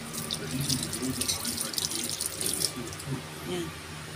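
Tap water runs steadily into a sink as items are washed, with splashing and clinking dishes close by and faint background voices.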